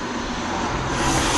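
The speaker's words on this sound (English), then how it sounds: "Apologise for the traffic noise in the background." Summer road traffic drifting in through an open window, a steady broadband wash of passing vehicles that swells slightly toward the end of the short stretch, with no voices.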